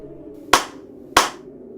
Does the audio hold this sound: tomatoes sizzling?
no